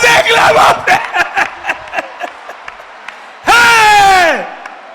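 Church congregation at a live-streamed service, a burst of claps and cheers that fades into scattered laughter, then a loud sustained shout near the end.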